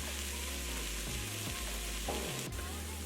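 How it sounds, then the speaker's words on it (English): Vegan meat frying in a pan gives a steady, dense sizzle throughout, with a few brief stirring scrapes and no talking. "our meat is cooking really nicely"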